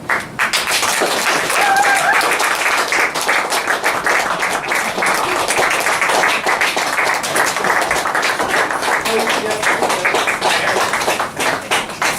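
A theater audience at a graduate acting showcase applauds loudly after a scene, dense clapping sustained throughout with a few voices calling out beneath it.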